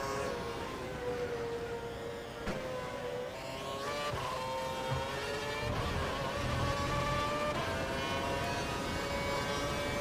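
Formula 1 car engine in the F1 2012 racing game at the Hungarian Grand Prix, throttle feathered in a steady high whine with shifting harmonic pitch, continuous and loud throughout with no talking.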